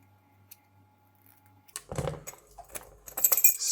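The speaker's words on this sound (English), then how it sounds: "the key go inside smoothly, go outside, outside, and lock open smoothly" Metal keys jingle and rattle as a key slides into an ISEO 5-pin Euro cylinder lock and turns, with small clicks and scrapes close up after a quiet start.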